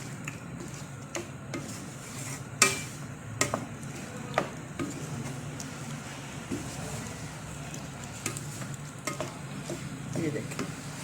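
Beef karahi frying in about half a cup of oil, a low steady sizzle with scattered scraping and clinking of a spoon against the pan, a few sharper knocks in the first few seconds, no talking.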